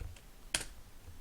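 A quick press of computer keyboard keys for an undo shortcut while working in ZBrush: one short, crisp clicking burst near the middle, otherwise near silence.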